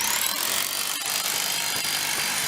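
A drill bores into concrete to set rebar while an old walkway is replaced outdoors in a snowstorm, giving off a steady, loud, gritty whine with faint rattling and no voices.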